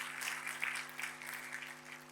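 Church congregation applauding during a sermon, a bright, continuous patter of many hands clapping over a low steady hum, moderately loud and sustained for a couple of seconds.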